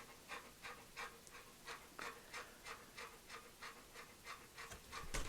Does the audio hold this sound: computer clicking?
no